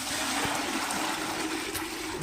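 Hot water runs steadily from a tap, a continuous hissing splash of moderate loudness with no voices.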